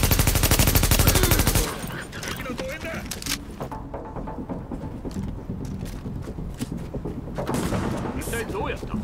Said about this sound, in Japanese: 銃声だわ。